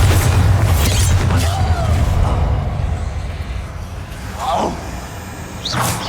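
Bombarda blasting spell from the game Hogwarts Legacy, a deep booming blast with low rumble that fades, followed by lighter whooshing magical effects and brief spoken lines.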